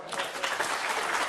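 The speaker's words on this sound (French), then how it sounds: "les applaudissements" A studio audience at a French TV talk show claps in dense, steady applause that lasts the whole short moment.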